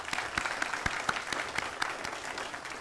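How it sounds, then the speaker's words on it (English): Audience applause at a military medical battalion change of command ceremony: steady, moderately distant clapping from a crowd with a few sharper individual claps standing out, continuing evenly without speech. "let's give both these leaders a round of applause"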